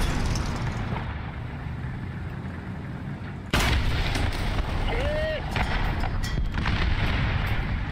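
Gunfire in the tank battle game War Thunder, a continuous rumbling battle bed with a sharp loud cannon blast midway and more scattered shots after it.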